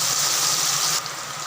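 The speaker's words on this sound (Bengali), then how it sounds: "হালকা করে ভেজে নেব" Paneer pieces frying in hot oil give a steady, dense sizzle that hisses loudly and continuously, easing slightly toward the end.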